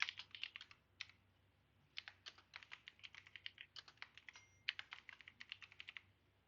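Rapid keystrokes on a computer keyboard come in uneven bursts with short pauses, fairly close and quiet, with no voices.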